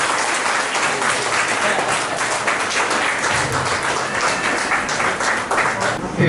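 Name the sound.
loud applause for honoured guests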